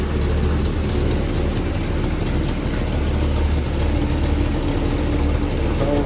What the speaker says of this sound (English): I'm gonna give it a little bit more gas.